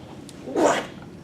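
A single short sneeze in a quiet room, moderately close and fairly soft, alone with no speech.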